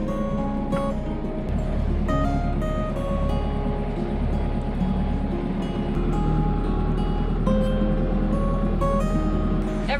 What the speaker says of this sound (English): I think my engine sounds weird. I think that the, what's it called, the cavitation, like the bubbles that come off the prop sound funny